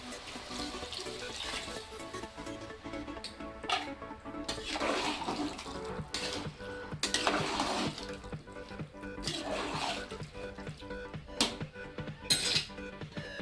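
Water from a metal jug poured into a cooking pan of mixed vegetable bhaji in a home kitchen, a splashing pour with clinks of metal utensils and pot, close and moderately loud.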